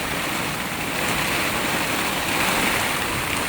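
Heavy storm rain pouring down around a delivery rider, a dense, continuous hiss of falling water at steady loudness, with no speech.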